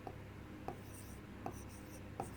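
Pen writing out an answer by hand on paper, faint scratchy strokes with a few soft taps at regular intervals under a steady room hiss.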